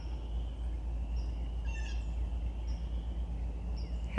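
Faint birds chirp now and then in the distance over a constant low rumbling hum from a large industrial plant.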